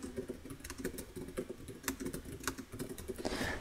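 Typing on a computer keyboard gives a run of quick, irregular clicking keystrokes, close and fairly clear, continuing steadily throughout with no talking.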